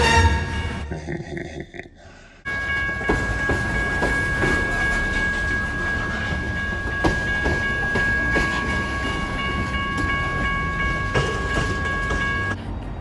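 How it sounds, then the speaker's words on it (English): A train rolls past in Salem, loud and steady with a rumbling, clattering body and a sustained high whine, rising abruptly after a brief quieter lead-in and holding for over ten seconds. "This is what you gotta deal with in Salem, the train."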